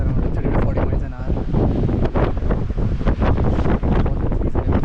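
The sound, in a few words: strong wind at Grand Canyon South Rim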